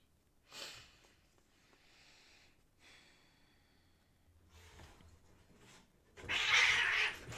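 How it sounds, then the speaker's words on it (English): Cats fighting indoors, with scattered snorts, hisses and short growling bursts separated by quiet gaps, then a sudden loud yowling screech near the end. "Oh my gosh, the cats are fighting"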